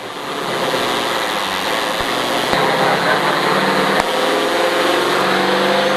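NASCAR race car engine running steadily and loudly at close range as it rolls off behind a flagman, a continuous broadband roar with brief sharp clicks, while a voice talks over it.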